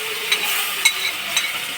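Tomato paste going into a hot pan of sizzling ingredients for a sandwich filling, giving a close, steady fry hiss with a few soft stirring clicks.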